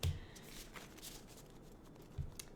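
Tarot card decks being shuffled in brief soft bursts, with a quick riffle at the start and another near the end over faint rustling handling; no talking.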